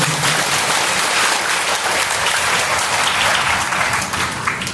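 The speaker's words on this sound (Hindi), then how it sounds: "आपका ताली बजाओ से माता जी के लिए" Sustained applause from an audience at an ISKCON Shrimad Bhagavat Katha gathering in Sonipat, loud and steady throughout, with no voices above it.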